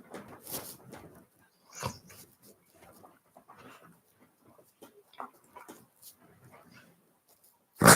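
A dog whimpers and makes small yips and snuffling noises in several short, soft bursts close by, with quiet gaps between them and a louder sound at the very end.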